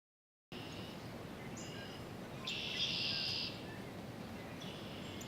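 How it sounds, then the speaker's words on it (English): Faint birdsong comes from somewhere far off, with thin high chirps and one brief louder trill over a steady background hiss, and nobody speaking. "Can you hear the birds in the distance?"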